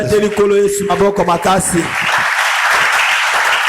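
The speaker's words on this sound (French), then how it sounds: "Acclame très fort le Seigneur." A church congregation breaks into applause and cheering after a voice speaks over the start, the clapping swelling into a dense, sustained roar that carries on to the end.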